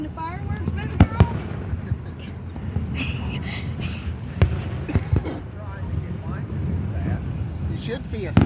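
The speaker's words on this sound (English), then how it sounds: "Are you watching the fireworks" Fireworks going off during an outdoor display, a few scattered sharp bangs and pops under nearly continuous talk and exclamations from onlookers, with wind rumble in the background.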